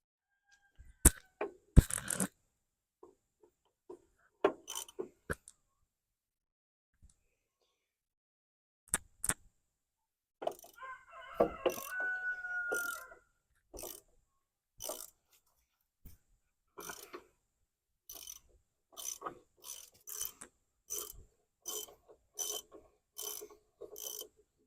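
Hand tools working on a Farmall fast hitch being removed, sharp metallic clanks and clicks in scattered bursts followed by a run of evenly spaced ratcheting clicks, close, amid quiet gaps.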